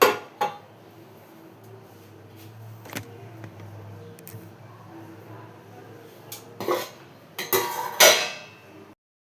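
Cooking pots and utensils in a home kitchen clink and clatter near the mic in scattered knocks. The knocks grow busier and louder toward the end, with faint talk in the background.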